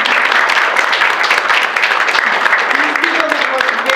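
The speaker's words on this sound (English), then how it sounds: "I would let you applaud them" An audience at a historical society annual meeting applauds the board members, a dense, steady patter of many hands clapping close by for a few seconds, with a voice faintly speaking underneath.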